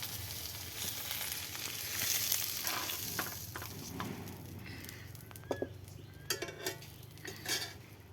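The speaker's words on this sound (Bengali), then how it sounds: "সব রকম সবজি আমার তেলের উপরে ভাজা হয়ে গেছে" Mixed vegetables frying in oil in a pan, a steady soft sizzle with intermittent metallic clinks and scrapes of a utensil stirring against the pan, fairly quiet and close.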